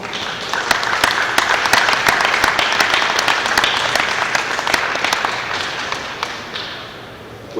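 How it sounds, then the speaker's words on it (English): Audience at a business event applauding a guest speaker as he is introduced, a loud, full round of clapping with sharp individual claps, gradually tapering near the end. "So now I'm going to ask a round of applause for Jhon Ross"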